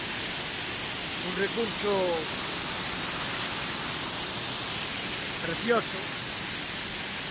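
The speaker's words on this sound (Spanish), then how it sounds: "Ahora estamos no, na fervenza de Cabaleiro, que está no río Pombeiro, aquí." Carballeiro falls on the Pontellas river in Cerdido, Spain, pours out a steady, even roar of rushing water that fills the whole clip, while a person speaks briefly twice over it.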